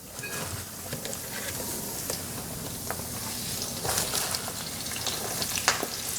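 Spinach hits hot extra virgin olive oil in a pan, giving a steady, loud sizzle and crackle that continues throughout.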